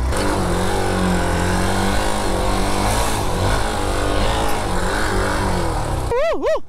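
Hero Xpulse motorcycle riding off-road, its engine buzzing and shifting pitch as the throttle rises and falls, loud and close with wind rush, ending in a brief warbling electronic tone.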